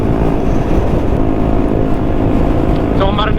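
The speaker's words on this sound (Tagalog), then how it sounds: "So, marinig yung exhaust ni ano eh, Bieber." A Vespa scooter's exhaust gives a loud, steady engine drone close by, with brief talk near the end.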